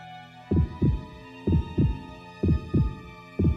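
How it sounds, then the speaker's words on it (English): Heavy double-thump heartbeats sound in the visual novel game Utawarerumono: Mask of Deception, four deep lub-dub pairs pulsing at a steady, slightly slow rhythm over a low sustained hum. "The sound of my heartbeat."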